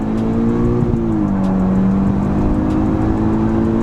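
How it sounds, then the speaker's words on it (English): A Mk6 Volkswagen Golf R engine roars loudly up close during a launch-control start, revving hard in a sustained, accelerating drone. "Oh, launch control. That was a nice launch."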